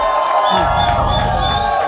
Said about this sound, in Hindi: वो एक बार ताली बजाओ भाई हमारे घोड़ों के लिए